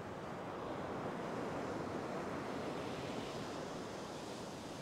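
Ocean surf breaking steadily on a fishing beach, a continuous loud wash of waves with wind noise, no voices.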